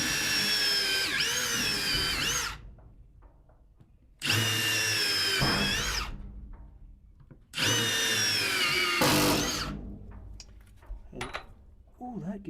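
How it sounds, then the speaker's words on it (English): A power drill bores pilot holes into oak wood in three long bursts of steady whine, each winding down between runs, close and loud, with short handling knocks in the pauses. "gonna drill a couple of holes here,"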